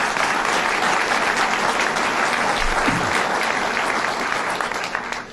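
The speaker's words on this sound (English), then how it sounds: "Let's give him a round of applause" Audience applause for Mayor Tucker at a flood aid event, dense and sustained clapping from a crowd throughout, tapering slightly at the end.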